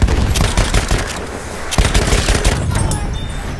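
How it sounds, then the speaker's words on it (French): Enemy machine gun fire in the Battlefield 1 video game, a loud, continuous rapid burst of automatic shots with a few heavier cracks, filling the whole stretch without pause. "Mitrailleuse ennemie, par là."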